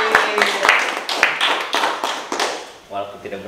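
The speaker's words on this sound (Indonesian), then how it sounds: "Boleh tolong memberikan tepuk tangan yang meriah untuk tim di balik layar." Brief applause for the behind-the-scenes team of a podcast recording, with scattered, close handclaps from a small group that fade quickly as a voice begins.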